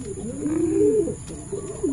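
Low, throaty pigeon coos rise and fall in a soft rolling series, close by, over a faint steady high-pitched hum.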